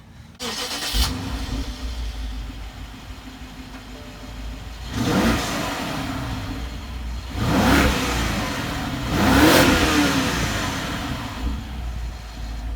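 A modified BMW F30 335i with a nearly straight-pipe exhaust idling, then revved three times in a row, each blip swelling and falling back to a low idle rumble, with no talk over it.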